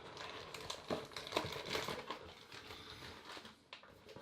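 A plastic bag crinkles and rustles around a Thinkware F100 dashcam as it is unboxed. The crackling is close and continuous but quiet, with small sharper crunches scattered throughout.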